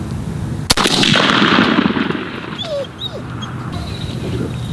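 A single loud, sharp shotgun blast from a Versamax firing a 3-inch 6-shot Longbeard XR shell at a pattern target outdoors, followed by a decaying rumble and faint bird calls in the background.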